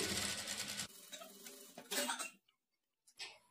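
A sewing machine stitches a blouse shoulder joint at a half-inch margin, running in a dense buzzing burst, pausing, then whirring again briefly before falling silent and restarting.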